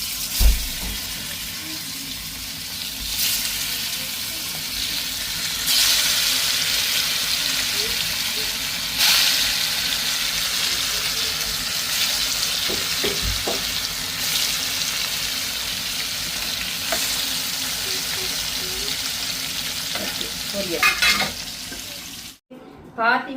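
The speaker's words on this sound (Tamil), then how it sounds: "இப்போ வந்து போட்டு பொறிச்சிருவேன்" Marinated fish frying in hot oil gives a steady, dense sizzle that runs throughout, with occasional louder crackles and some faint clatter. No speech is heard.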